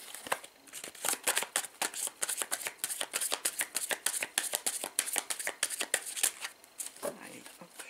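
Playing cards are handled and shuffled close by in a rapid series of crisp riffles and flicks, with brief pauses between bursts.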